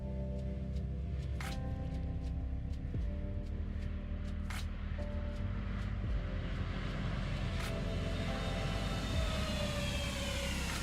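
An Airbus A320 touches down on a runway in the X-Plane 12 flight simulator, with a steady loud engine and rolling roar, brief clunks and thumps, and a rising whine near the end, no talk.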